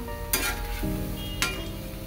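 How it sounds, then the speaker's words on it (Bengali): Food fries in a pan with a steady sizzle, broken twice by sharp scraping strokes of a utensil stirring, close and alone. "আর এইদিকে ভাজা চলছে"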